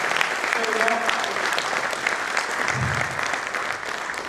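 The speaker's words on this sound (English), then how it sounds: "can we have a round of applause for Sir?" Audience applause for a speaker at a leadership and project management talk: dense, steady clapping from a crowd that holds evenly for several seconds, with a faint voice briefly audible underneath.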